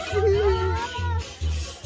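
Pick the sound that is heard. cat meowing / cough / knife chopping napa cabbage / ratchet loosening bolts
cat meowing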